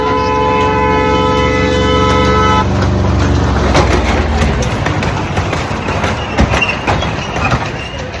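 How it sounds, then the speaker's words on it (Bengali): A toy train sounds a long, loud, steady horn toot, then rumbles and clatters past close by on its rails as the horn stops. "একটু পর পর টয় ট্রেন আসছে টয় ট্রেন এখনই আসবে"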